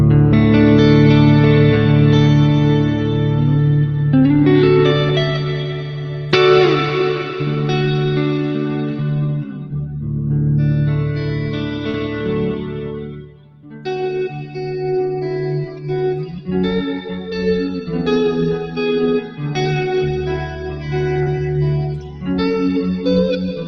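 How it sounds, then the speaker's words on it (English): Electric guitar chords and single notes ring out through an EarthQuaker Devices Abyss plate-style reverb pedal into a lush, washy reverb, the tails swelling and lingering between phrases. "the Abyss is just this massive, lush, plate-ish style verb"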